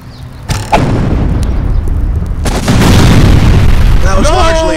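An artillery gun fires in a video game with a loud, close boom and a heavy, sustained rumble, then a second blast builds. A voice comes in near the end.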